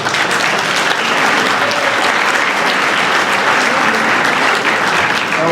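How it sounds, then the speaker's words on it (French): Steady, dense applause from an audience at a comedy show, welcoming the president, Evelyne. Loud and continuous, filling the whole stretch with no break or fade, with crowd murmur mixed into the clapping. "On applaudit Evelyne, la présidente."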